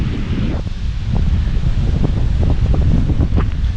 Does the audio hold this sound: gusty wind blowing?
yes